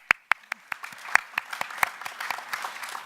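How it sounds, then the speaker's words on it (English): Applause from a conference audience at a propulsion and energy industry anniversary gathering. A few sharp, distinct claps open it and build into a brief, moderately loud patter. "You guys owe yourselves a round of applause."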